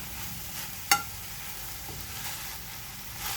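Omena (small fish) being stirred in a pan, with soft continuous sizzling and scraping and one sharp clink of the spoon against the pan.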